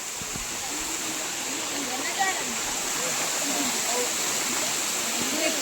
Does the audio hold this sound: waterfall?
yes